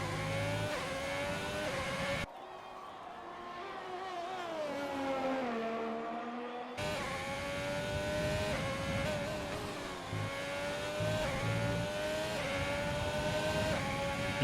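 Alfa Romeo racing car engine on a track in Italy, a loud sustained high-pitched whine that rises and falls through the gears, briefly dipping as the car moves away before returning close and strong.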